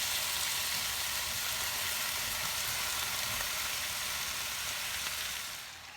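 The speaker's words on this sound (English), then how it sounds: "now that we have this beautiful mixture of tomatoes, garlic, and onions cooking" Tomatoes, garlic and onions frying together in a hot pan give a steady, even sizzle that stays constant throughout, then drops away briefly near the end, with no voices.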